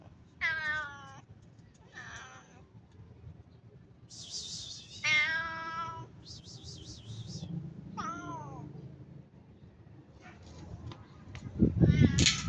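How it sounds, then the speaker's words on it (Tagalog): A cat meows repeatedly, several drawn-out high cries spaced apart, over a quiet low background with faint rustling and a louder thump near the end. "Yan yung pusa."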